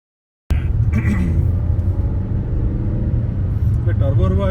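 A car engine with a turbo hums in a steady, close, low rumble inside the vehicle while people talk over it.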